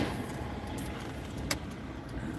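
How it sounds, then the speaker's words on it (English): A big truck idles at a mall loading dock, giving a low, steady rumble with faint background hum and one brief metallic clink, heard from nearby without talk. "But there's a big truck right here."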